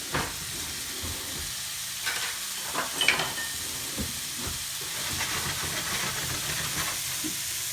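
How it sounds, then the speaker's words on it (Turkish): Meatballs and eggplants frying together in one pan, with a continuous sizzle and hiss plus occasional crackles and soft stirring knocks, near and steady. "Onlar güzelce kızarmış."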